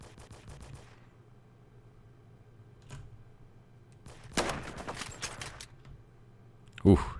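Gunfire in the Roblox shooter Phantom Forces: a rapid burst of shots early on, then scattered shots and a louder volley toward the end, with a voice talking in between.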